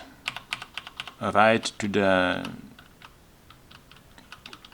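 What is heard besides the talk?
typing on keyboard with Keychron double-shot PBT keycaps, Cherry G80-1800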